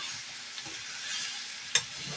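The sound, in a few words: stirring jackfruit curry after adding salt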